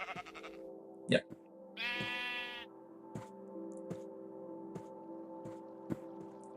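A sheep bleats in Minecraft, one quavering bleat near the start over a steady droning music bed, with soft taps and brief clicks spaced through it and a person speaking a word.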